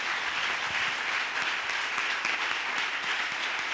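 A church congregation applauds together in dense, steady clapping that fills the whole stretch without a break, fairly even in loudness and heard from within the crowd.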